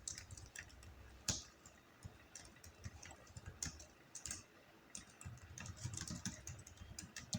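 Quiet, irregular clicking of computer keyboard keys as a channel name is typed into video editing software, the taps coming in short bursts and pauses, with no speech.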